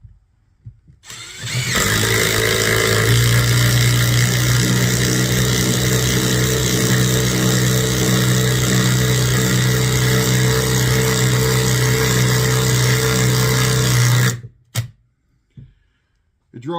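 A Milwaukee impact driver set on mode 3 hammers a fastener in one long, loud, steady burst of about thirteen seconds. A low droning tone runs underneath before it cuts off abruptly.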